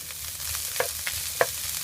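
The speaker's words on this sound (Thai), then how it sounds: "ปลาอินทรีนะคะหั่นเป็นลูกเต่านะคะ แล้วก็ทอด" Diced salted Spanish mackerel fries for fried rice, giving a steady soft sizzle under a few sharp clinks of a utensil stirring in the pan, close and without voices.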